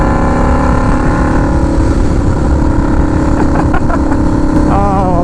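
A turbocharged Harley-Davidson V-Rod motorcycle being ridden: a loud, close, steady engine drone with wind buffeting over it, and the pitch shifting slightly as the revs change near the end.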